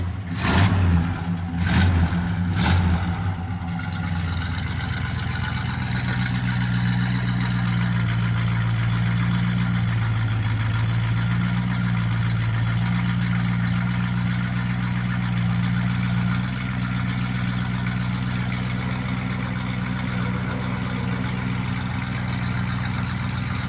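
A 1964 Ford Galaxie XL 500 with a 390 V8 rumbles steadily through its exhaust, a few sharp revs at the start settling into a deep, loud, even idle that holds for the rest of the clip.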